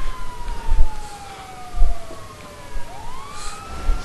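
A police car siren wails in the video game GTA5, a steady falling and rising tone over scattered thuds and road noise, fairly loud.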